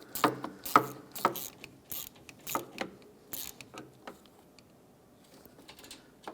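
A ratchet wrench tightens a bolt while a radiator is being replaced on a Ford Focus, giving quick bursts of sharp clicking that thin out into scattered, fainter clicks, close by and with no talk.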